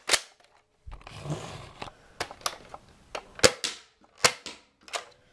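Sharp clicking shots from a Nerf Barrel Break blaster firing darts, several separate pops spaced irregularly with a short mechanical rattle near the start, close and fairly loud.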